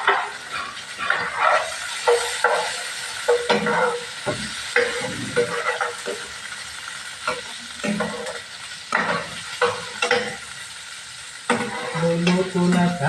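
Munggo (mung beans) sizzle in a pan, a steady close frying hiss broken by stirring scrapes and clinks, with voices talking over it.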